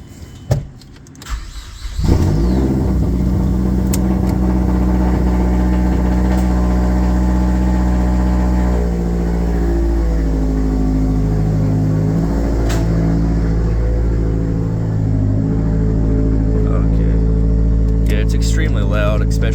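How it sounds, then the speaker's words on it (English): A 2009 Mazdaspeed 3 engine fires on a completely cold start, then runs loud and steady with a high idle, heard through open windows from inside the car, with a few brief clicks over the drone. "I'll put the windows down just so you can hear the engine, but this is a completely cold start"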